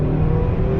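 Tuned 2018 Honda Accord 2.0T under hard acceleration, a brief, loud, steady engine drone with strong low-end rumble and no voices.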